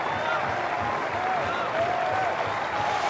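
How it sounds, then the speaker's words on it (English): A college baseball crowd at a Virginia versus Oklahoma game cheering and applauding, a steady dense wash of clapping with scattered whistles and a commentator talking over it. "Crowd getting into it on the 1."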